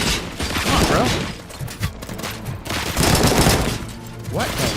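Gunshots in the video game RoboCop on PS5, loud repeated bursts of weapon fire mixed with mechanical clanks and impacts, with a voice briefly heard beneath the action.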